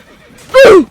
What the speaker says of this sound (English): Ow, I got kicked by my horse!